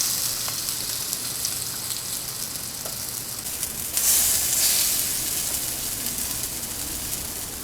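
Pancake bacon, bacon strips coated in pancake batter, sizzles in a frying pan with a steady crackling hiss that swells briefly louder partway through, with a few faint clicks.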